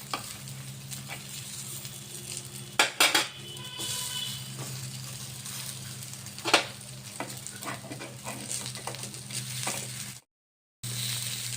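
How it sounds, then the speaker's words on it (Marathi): Veg appe sizzle steadily in an appe pan while pieces are flipped to crisp the other side, with a few sharp clicks and scrapes of the turning tool over the constant frying hiss, close and clear. "तुम्हाला मी दुसरी बाजू पलटवून दाखवत आहे"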